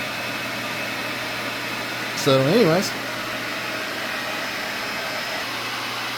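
A steady, loud, broadband whoosh from a space heater and hair dryer running together on a 2000-watt 12-volt power inverter, a constant blowing drone with a voice briefly speaking over it.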